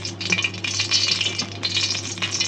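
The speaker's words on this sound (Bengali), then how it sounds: "কড়াই গরম হয়ে গেছে, তেল দিয়ে দিলাম" White cooking oil hits a hot wok, giving a steady, fairly loud hiss and crackle with small clinks of utensils, continuous across the whole moment with no talking.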